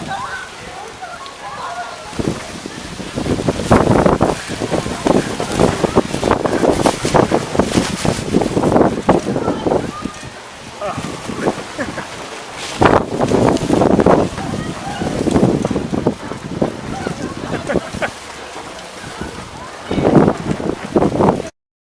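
Wind gusts and rain batter the microphone at an outdoor college homecoming event, a loud, continuous rushing roar with surging bursts throughout.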